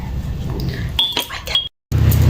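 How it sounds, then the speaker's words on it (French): Several bright clinks of ice cubes dropping into a glass, close and fairly loud over a steady background hum, with a brief cut to silence near the end. "Maintenant, on n'oublie pas de mettre les glaçons."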